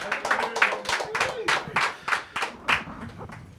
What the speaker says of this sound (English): Round of applause for the one and only MASTA Ace,